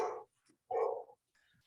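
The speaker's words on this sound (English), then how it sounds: "And I have dogs barking in the background too." A dog barks twice somewhere in a house during an online club meeting, two faint muffled woofs with a short pause between, then quiet.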